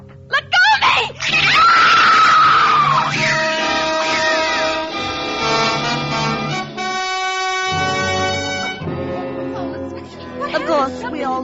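A woman lets out a long, loud, piercing scream that wavers and sustains, followed by further wailing cries and agitated voices.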